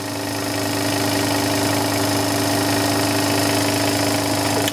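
A Kromrey generator runs steadily, its loud mechanical hum and whir holding constant throughout and edging slightly higher in speed as it settles, with no talk over it.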